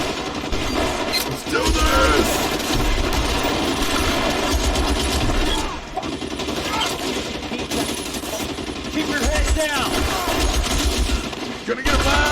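Sustained gunfight from the video game L.A. Noire: dense, continuous bursts of rapid gunfire and machine-gun volleys, loud and close, with brief lulls and shouting voices mixed in.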